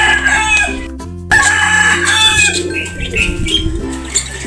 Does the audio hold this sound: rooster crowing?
yes